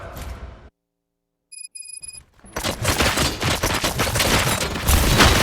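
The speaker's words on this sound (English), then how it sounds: "Gunshots? What's going on?" Gunfire in the video game RoboCop: Rogue City: after a short burst, a gap and a few electronic beeps, a loud, dense, continuous volley of shots erupts and keeps going to the end.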